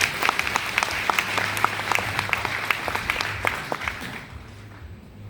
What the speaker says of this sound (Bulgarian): Аплодисменти за колострум